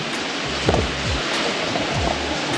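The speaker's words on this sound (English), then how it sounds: "It's raining outside." Rain falls outside as a steady, dense hiss close by, loud and continuous. Low rumbling sounds pass underneath it.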